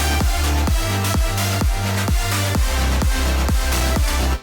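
A progressive house drop made in FL Studio 20 plays loud and alone, with a punchy kick hitting on a steady four-on-the-floor beat under dense, bright synths and bass.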